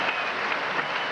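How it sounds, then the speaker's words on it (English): Cricket crowd at a 1986 Champions Trophy match in Sharjah, Sri Lanka vs India, applauding good fielding near the boundary, a dense, steady wash of clapping from a large stadium audience. "rightfully deserving the applause of the crowd"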